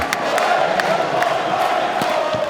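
A packed arena crowd at a Turkish women's top-division volleyball match roars and cheers steadily after Kim Yeon-koung's spike scores, a dense, sustained wall of voices with scattered whoops and shouts.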